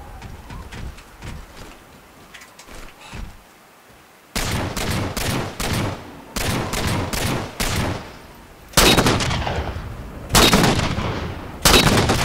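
Sharp, loud gunshot bursts from Halo 4 gameplay crack out in irregular clusters, with quieter scattered shots at first and louder repeated volleys later.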